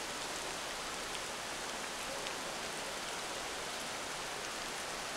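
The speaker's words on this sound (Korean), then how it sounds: "아침부터 하늘이 흐리더니 그새 비가 내린다." Steady rain falls in Iwaizumi, Iwate, Japan, a soft, even hiss of drops with no pauses or other sounds.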